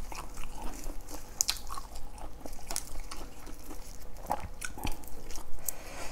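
Spicy fish larb eaten with fresh raw vegetables, heard as close, crunchy biting and steady chewing that continues throughout with small wet clicks and crinkles.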